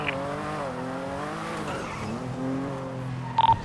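Tires screech as a car brakes hard and skids while turning into alleyways during a video game police chase, a sustained squeal with sliding tones over steady engine noise.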